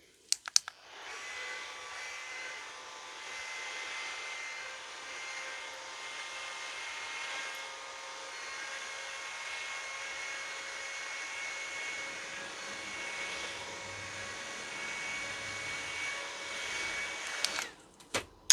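A small fan blows steadily for nearly the whole stretch to dry serum on a face, a continuous close whir with faint rustling at the start and end.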